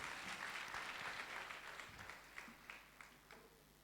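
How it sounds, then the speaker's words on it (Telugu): Church congregation clapping at a ruby anniversary service, a dense round of applause that thins into scattered, separate claps toward the end, heard at a moderate distance. "అందరూ చప్పట్లు కొడదాం ఒకసారి."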